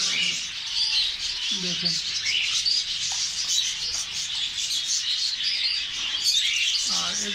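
Caged birds at a bird market in Saudi Arabia chirp and squawk in short bursts over a constant rubbing, hissing background, while someone talks nearby.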